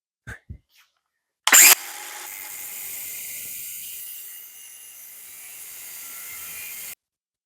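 A power tool cuts a metal bracket off: after a few light knocks, a sharp loud burst gives way to a sustained even whirring grind for about five seconds, then stops abruptly.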